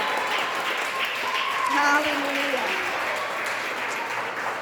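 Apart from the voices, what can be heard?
church congregation applauding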